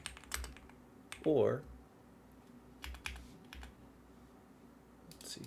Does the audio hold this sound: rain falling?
no